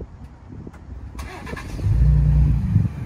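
A 2020 Ford Raptor pickup truck engine cranks and catches, settling into a steady low rumbling idle, close and fairly loud after a few faint clicks.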